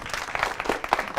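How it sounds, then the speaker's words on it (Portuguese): Studio audience applauding guests on a Brazilian talk show about prejudice, a brief dense wash of clapping at moderate level. "Uma salva de palmas para os nossos convidados."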